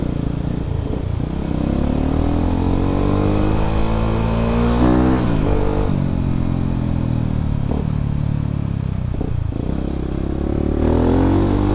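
A modified Yamaha Vixion supermoto motorcycle revs its exhaust close up, a loud, dense engine note rising and falling through several throttle blips over steady idle rumble, with no talking.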